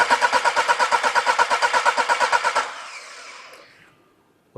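A car engine cranks over with a compression pressure tester fitted, giving about fifteen even, loud, rhythmic pulses before the starter stops and the sound fades to near silence, followed by a small click.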